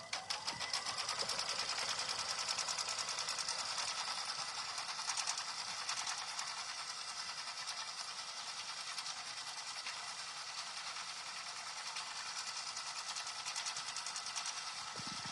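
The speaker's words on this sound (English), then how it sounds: "this is where we'll really see some of the differences in the stitching speed on this big piece" An embroidery sewing machine runs steadily, stitching a large mug rug with a fast, continuous rhythmic whir that stays close and even throughout, with no talking.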